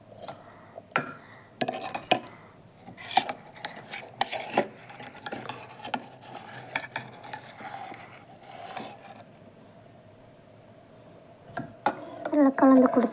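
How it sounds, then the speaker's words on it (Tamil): Rice goes into a boiling pot of mutton biryani and gets stirred, with repeated metal scraping and clinking of a spoon against the pot, irregular and close, under a low background hum, with someone talking at times. "நல்லா கொதிச்சிடுச்சு. இப்போ அரிசியை சேர்த்துக்கலாம்."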